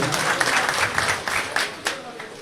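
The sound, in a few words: audience applauding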